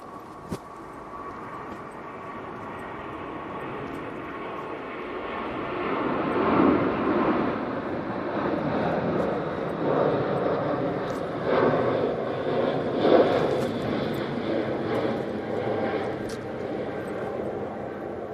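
An Emirates A380 touching down and then going around, a building roar of big jet engines that swells and surges, with people talking over it.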